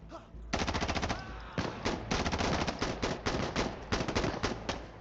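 Rapid full-auto P90 fire in the video game Insurgency Sandstorm, loud and close, in several long sustained bursts separated by brief pauses.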